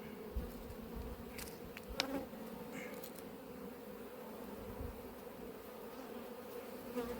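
A wasp buzzes at a beehive during an apiary inspection, a steady near drone with brief louder passes and small knocks against the hive.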